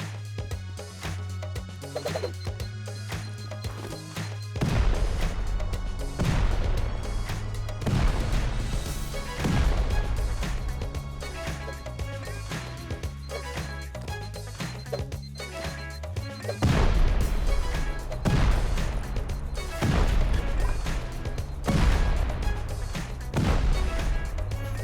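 Repeated explosions and gunfire in the survival video game Rust during a base raid, with heavy booming bursts and crashes layered over a continuous low game score, loud and dense throughout.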